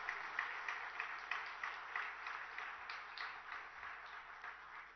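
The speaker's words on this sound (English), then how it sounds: "Can we have a huge round of applause?" Audience applause at the launch of a Google for Startups hub at T-Hub, heard as a faint, steady wash of clapping from a crowd, continuous for several seconds with no speech over it.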